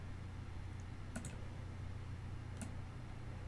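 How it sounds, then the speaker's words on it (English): A few mouse clicks select answer options while building a quiz in Schoology, heard as faint, isolated taps, two close together and one later, over a steady low hum. "I'll just click on the option."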